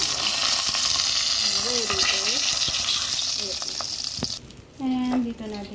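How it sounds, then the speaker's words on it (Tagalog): Salmon frying in a pan, giving a loud, steady sizzle with some bubbling that drops away near the end, while a voice talks over it. "Perfectly na rin ang ating piniprito'ng salmon."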